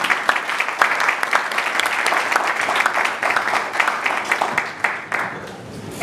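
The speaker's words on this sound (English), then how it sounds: "Another round of applause for the panel." Audience applause for a panel at an energy conference, a dense, loud wash of clapping that continues steadily for around five seconds before it begins to thin out.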